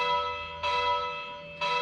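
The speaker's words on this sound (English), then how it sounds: "I get a corresponding bong from the simulator software" Two church bell strikes come from bell-ringing simulator software, each a bright, sustained metallic bong with a humming tail, sounding about a second apart and close.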